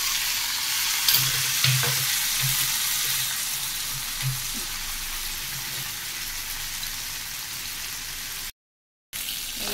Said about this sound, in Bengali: পাস্তা পেঁয়াজ আর রসুন ভাজা হচ্ছে বাটারে